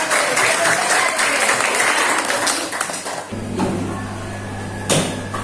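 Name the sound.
classroom applause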